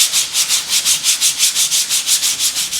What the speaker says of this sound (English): The underside of the inlay is smooth, and we want to make sure we sand it well.